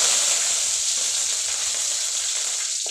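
Cumin, mustard seeds, two dried red chillies and curry leaves hit hot oil for a cauliflower fry, giving a bright, hissing crackle that stays loud and even, with a faint tap near the end.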